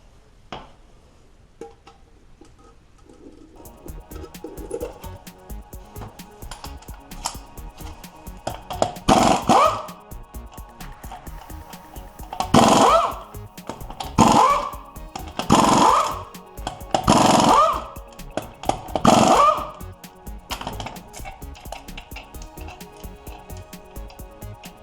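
Noisy front wheel hub bearing on a GM truck, a grinding, rattling mechanical whir as the wheel spins, with several louder surging bursts, close and steady throughout.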